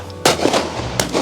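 Shotgun shots at clay pigeon shooting in the Cotswolds countryside: two loud, sharp reports about three quarters of a second apart, each with a short booming tail, outdoors with no talk.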